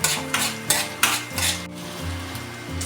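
Chopped coconut pieces fry in ghee for jackfruit payasa, and a spoon strikes and scrapes the pan in quick rhythmic knocks over a soft, steady sizzle.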